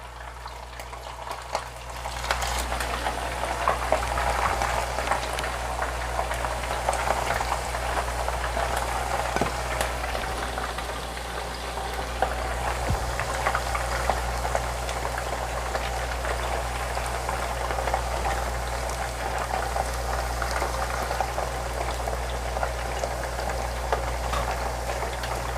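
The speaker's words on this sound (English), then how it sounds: "I'm gonna get the meat in the oil, get that cooking." Beef pieces for ramen sizzle and crackle steadily in hot oil, a dense, even frying hiss that carries on without a break and with no one speaking.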